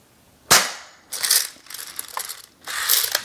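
A cheap gravity-fed airsoft shotgun being cocked and dry-fired with no BBs feeding, giving sharp plastic snaps and ratcheting clacks in two or three quick bursts, close and loud with no talk.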